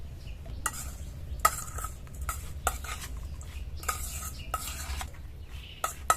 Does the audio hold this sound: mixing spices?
yes